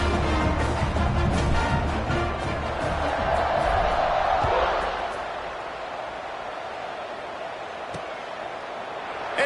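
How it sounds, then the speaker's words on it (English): Stadium crowd at an NC State football game buzzes with a broad roar and scattered cheers after a score, fading somewhat midway, beneath a commentator's talk. "this crowd is buzzing after that last score"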